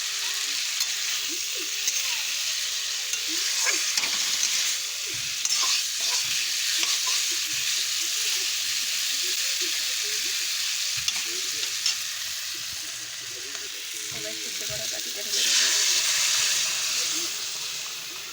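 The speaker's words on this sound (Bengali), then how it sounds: "এবার গাঠির ঝোলটা এবার ঢেলে দেবো" Fish curry broth poured into a hot wok of well-fried spice paste, a loud hissing sizzle with scattered stirring clatters, surging again near the end.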